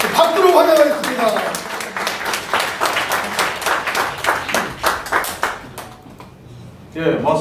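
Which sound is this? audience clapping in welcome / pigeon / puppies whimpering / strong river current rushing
audience clapping in welcome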